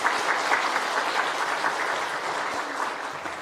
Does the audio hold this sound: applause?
yes